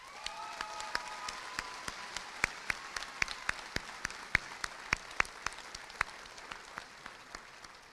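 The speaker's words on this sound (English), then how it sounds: "Class, we need to take a moment and give Mrs. Haley a huge round of applause." Applause from a high school graduation audience in a large hall, with sparse, distinct claps spread through the crowd at a steady pace, moderately distant and fairly quiet, with no talking over it.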